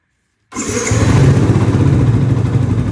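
A 2012 Yamaha YZF-R125 motorcycle engine fitted with a TB Killer fires up after a moment of silence and settles into a loud, steady, throaty idle close by.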